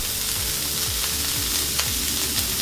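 Chopped onion and red and yellow peppers fry in a cast iron pot for jambalaya, sending up a loud, steady close sizzle with faint stirring scrapes and no voices.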